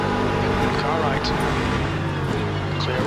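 A car runs alongside in the Le Mans Ultimate racing game, with loud continuous engine and tyre roar close by and a steady, dense drone for a few seconds.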